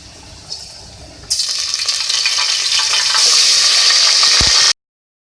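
Onions hit hot oil in a pan for chicken korma and break into a loud, steady sizzle that stays bright and close until it stops abruptly, with no talking over it.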